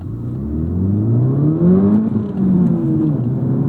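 The engine of a 2025 Hyundai Elantra N or Honda Civic Type R with a dual-clutch gearbox pulls hard under acceleration, a loud, close, rising drone that climbs steadily in pitch.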